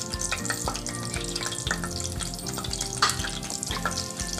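Curry leaves fry in two big spoons of hot oil for a shevga kalvan, a continuous crackling sizzle with scattered sharp pops and occasional stirring scrapes, close and fairly loud throughout.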